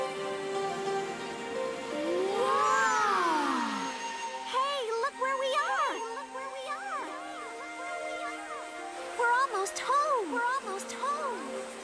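Cartoon cats meow repeatedly in a stylized, high gliding pattern, a long swooping call followed by a string of shorter rising and falling meows, close and clear over a faint background.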